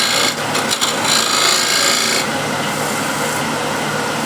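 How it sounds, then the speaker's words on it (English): Fine scraping of a wooden surface by hand, a steady broadband rasp with a few quick strokes early on, close and continuous through the whole stretch with no talking. "A little fine scrape here."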